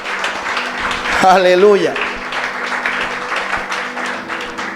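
Congregation in a church applauding God, dense clapping throughout with a voice calling out briefly over it.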